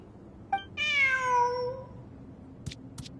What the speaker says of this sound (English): Who's a good kitty?